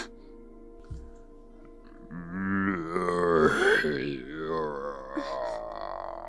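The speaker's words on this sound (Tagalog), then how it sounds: "yung tunog ng aswang ah." An aswang monster creature gives a drawn-out, groaning moan that swells loudly after a short quiet start and wavers in pitch for several seconds.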